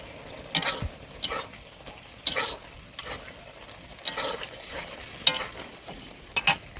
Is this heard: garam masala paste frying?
yes